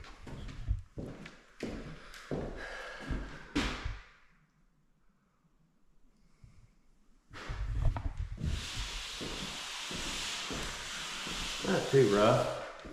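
Wood being sanded by hand indoors on a rainy day, a steady broadband rubbing hiss in the second half, following a stretch of talk and a quiet pause.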